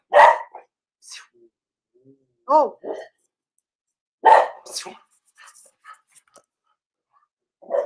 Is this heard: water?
no